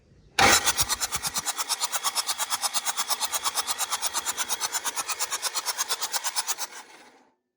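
A CAT 307SSR mini excavator engine is cranked by the starter in a long, steady, rhythmic chug of regular pulses. It is loud and close and keeps on for about six seconds before it stops without catching.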